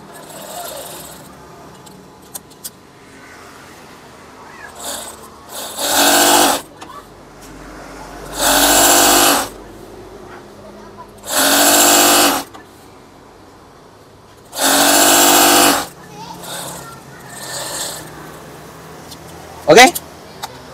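A sewing machine stitches fabric for a curtain craft in four steady whirring runs of about two seconds each, loud and close, separated by quieter pauses with handling noise.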